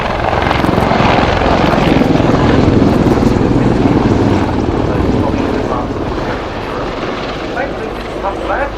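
A Czech Air Force Mil Mi-24V Hind attack helicopter in a flying display at the RAF Fairford air show, its loud, dense rotor and turbine roar filling the air and easing slightly as it moves off, with an announcer talking over it.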